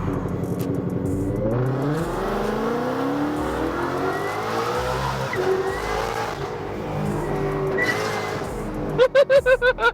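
A 1,000-horsepower Ford GT500 revs hard and accelerates, its loud engine note climbing through gears with some tire squeal, close and sustained for the whole stretch, ending in a rapid pulsing burst.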